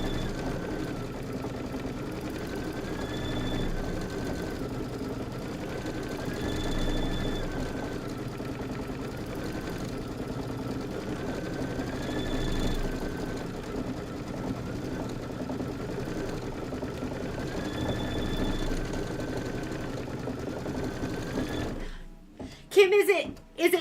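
An embroidery machine quilts a Kimberbell Hello Sunshine filler block, its steady mechanical hum running close and unbroken for over twenty seconds, with faint periodic beeping tones, before stopping near the end.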